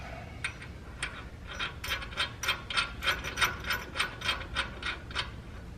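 Steady rapid clicking of a ratchet wrench tightening a nut on a Ford F150 front shock mount, about a dozen evenly spaced close, crisp clicks with no talking.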